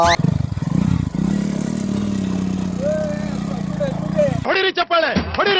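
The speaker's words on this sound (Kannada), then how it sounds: "V15 ಗಾಡಿಯಲ್ಲಿ ನಾವಿವತ್ತು ಆಫ್ ರೋಡಿಂಗ್ ಮಾಡ್ತಾ ಇದೀವಿ" A fully modified Bajaj V15 motorcycle rides off-road beside a lake, its engine a steady low drone running under close talking before cutting away near the end.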